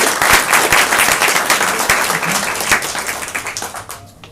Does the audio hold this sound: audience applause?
yes